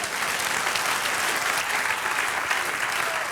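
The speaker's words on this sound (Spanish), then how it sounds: "Dale un aplauso al Señor." A church congregation applauds in a dense, even wash of clapping that carries loudly and without pause from start to finish.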